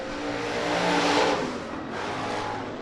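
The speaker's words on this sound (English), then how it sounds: "Chad Koiker charging in that green and white 88 machine, looking to see if he can put up a last lap battle for that second position" Hobby stock race cars roar around the oval at Rapid Speedway, engines revving loud and steady as the pack passes close by in a last-lap battle.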